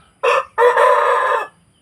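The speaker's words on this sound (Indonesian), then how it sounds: "Tuh dari kongkorongoknya aja udah kayak ayam apa tuh?" A rooster crows close by, loud and clear: a short opening note, a brief pause, then a long sustained call that ends abruptly, heard alone.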